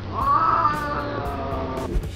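A cat yowls in a long, drawn-out, aggressive meow that wavers in pitch, close and loud, and gets very aggressive when touched after wanting to sit on a lap.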